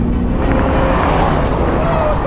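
A 1968 Ford Mustang and a Chevy Corvette roar down a drag strip, their engines loud and continuous, filling the short stretch with a dense, sustained rumble.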